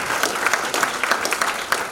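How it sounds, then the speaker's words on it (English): Lively audience applause at a live comedy show, many hands clapping in a brief, dense burst with crisp overlapping claps. "One more time, round of applause."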